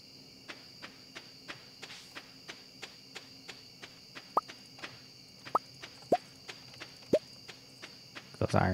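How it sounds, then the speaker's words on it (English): Crickets chirp steadily at night in Stardew Valley, a regular, evenly spaced ticking pulse that repeats for several seconds, with a few soft plopping game sounds mixed in. "A lot of crickets out for it being in spring."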